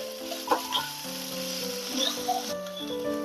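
Mashed boiled bhetki fish fries in a pan with a steady sizzle, broken by brief stirring clatters close by.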